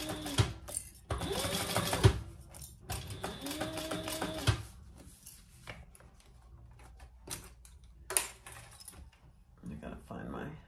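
A sewing machine stitches a hip bag in two steady bursts of rapid, close-up mechanical chatter, with short pauses and handling clicks between them, while a person talks intermittently.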